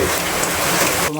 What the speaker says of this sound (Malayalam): പുറത്തല്ലേ നല്ല പടപ്പം മഴ പെയ്തുകൊണ്ടിരിക്കുന്നു.